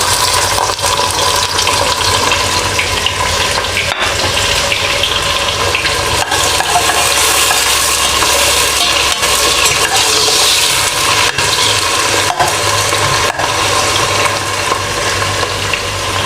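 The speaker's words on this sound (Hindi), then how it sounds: "ये प्याज मैं फ्राई करके निकाल लूँ।" Onions frying in about a cup of oil in a pot, a steady, loud, dense hiss of bubbling oil without pause, no talking.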